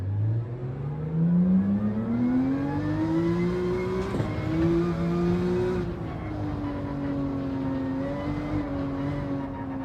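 Car engine in Gran Turismo 7 on dirty tyres at the Catalunya track, revving up and dropping as the car spins out at low speed, then surging again; loud, close, steady engine tone with no talk.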